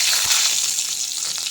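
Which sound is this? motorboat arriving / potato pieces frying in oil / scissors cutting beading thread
potato pieces frying in oil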